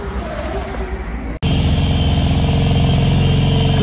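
A BMW M3 G80 Competition revs hard with its exhaust valve open, a loud, sustained engine roar that erupts abruptly after a brief quieter idle and then holds steady and close for several seconds.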